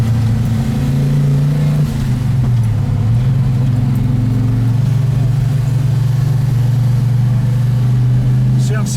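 A Ford GTHO Phase 3 tribute car's lumpy V8 exhaust idles and revs loudly and close, steady throbbing with pitch dips and rises as the throttle is blipped, continuous throughout.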